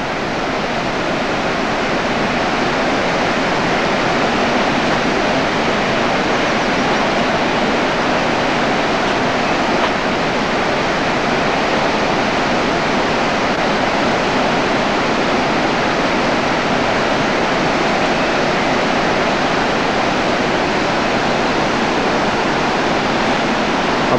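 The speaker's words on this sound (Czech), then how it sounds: "Nádherný obří vodopád." A giant waterfall in the Husedalen valley of Norway roars in a steady, dense, unbroken rush of water heard from close by, right beneath the falls, loud and constant with no voices.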